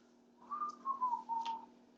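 A person whistles a casual, wavering little tune, a few sustained notes in quick succession, soft and close in an otherwise quiet room.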